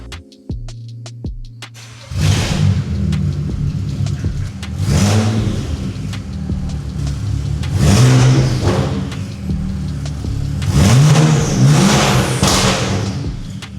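A BMW 335xi engine cranks and fires up, then revs hard several times in rising bursts, settling back to a steady idle between each loud roar.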